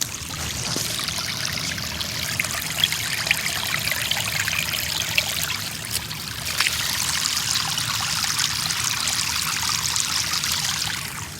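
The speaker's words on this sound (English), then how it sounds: "It sounds like a daggone waterfall over here, man. It's just flowing." Steady rushing storm runoff water pours and flows continuously, a dense broadband wash like a small waterfall, loud and close with no pauses.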